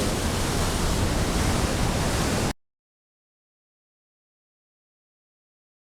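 Waves break as surf in a quarry where seals swim, heard as a dense, loud roar of white water for a couple of seconds before it cuts off abruptly into silence.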